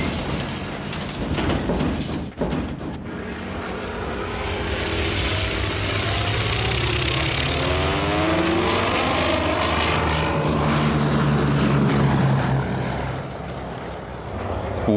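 Propeller airplane engines roar and build steadily as World War II aircraft with full fuel tanks speed up along a makeshift runway for takeoff, a loud sustained drone with shifting pitch.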